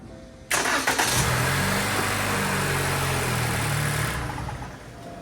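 A 2018–2024 Toyota Camry engine cranks and catches with a sharp onset, then settles into a steady, loud idle close to the microphone, with no one speaking.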